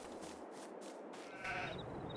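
A single sheep bleat rises out of faint farm ambience in the video game Farming Simulator 22 on the Elmcreek map, quiet and fairly distant.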